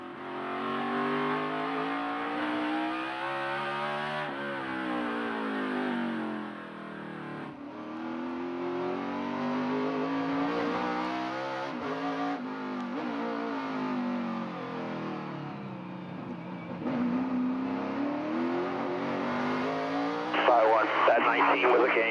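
NASCAR O'Reilly Auto Parts Series race cars at COTA, with engines roaring steadily and rising and falling in pitch as they accelerate, shift and brake around the circuit, heard at moderate distance.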